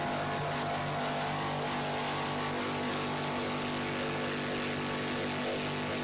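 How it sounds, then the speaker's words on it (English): A new racing powerboat runs at the 2008 Battle on the Bay race in Patchogue, New York, its engine holding a steady, strong droning roar throughout with no talking over it. "Motor sounds like it's running very strong for these guys."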